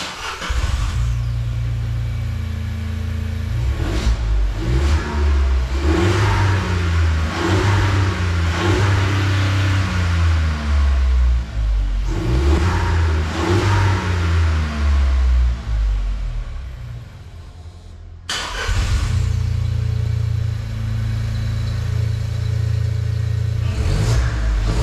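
A Volkswagen up! TSI engine and exhaust rev repeatedly, first on the stock setup and then with only a downpipe and intake fitted. Loud rising and falling revs and a rumbling idle are recorded up close, and a brief cut separates the two runs.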